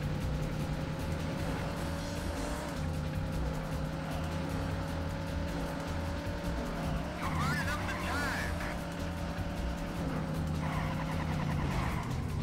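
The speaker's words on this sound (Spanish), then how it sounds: "No, perdí todo el control del auto de vuelta." Car in the Daytona USA arcade racing game loses control, a steady engine drone with a brief tire screech skid near the middle and another toward the end, all under loud continuous game audio.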